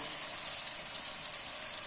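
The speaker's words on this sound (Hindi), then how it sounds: "अब मैं इसमें 1 गिलास जितना पानी डाल दूंगी" Water poured into oil-glossed, fried masala for a kofta curry gives a steady rushing, hissing gush with a faint sizzle, continuous and close for about two seconds with no talking.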